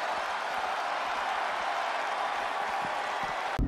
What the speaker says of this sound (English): Just listen to the crowd roar.